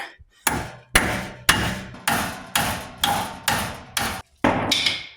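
A hammer drives a bolt out of the front axle of a Hummer H3, with eight loud, evenly spaced metallic blows ringing close up and no talking.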